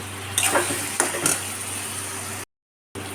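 Ginger paste frying with mutton masala in a pot, a close, steady sizzle with a few scraping stirs early on, then a brief cut to silence before the sizzle resumes.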